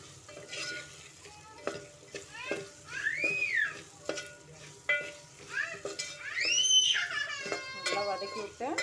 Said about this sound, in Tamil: மிளகாய்த்தூள் போட்டுக்கோங்க, பெருங்காயத்தூள், சாம்பார் தூள் போட்டு நல்லா வதக்கி விடுங்க.